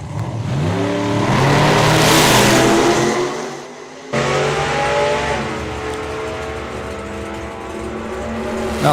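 At an English drag race, a Ford Pop and a supercharged Marina van launch and accelerate hard, their loud, close engines roaring and rising in pitch through the gears, with a brief dip before they pull away again.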